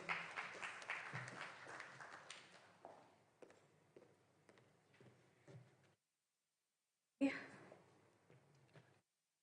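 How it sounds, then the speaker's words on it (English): Audience applause at a business forum, a dense clatter of many hands that starts strong and slowly thins out, stops, then returns in a shorter burst. "Let's give a warm round of applause to Oshin."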